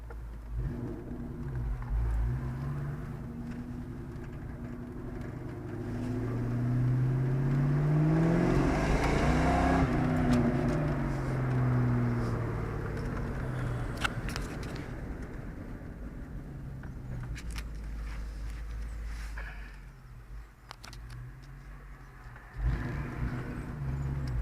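Ford Mustang GT engine running steadily with a smooth, continuous rumble that swells slightly in the middle, close and loud throughout with no talk.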